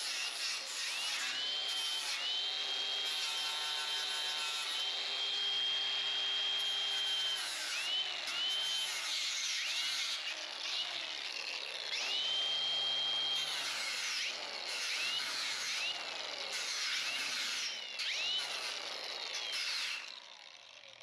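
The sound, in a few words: sanding a 1973 Cuda window channel with 80 grit sandpaper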